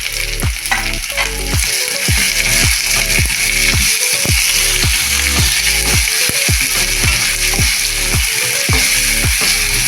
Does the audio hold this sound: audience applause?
no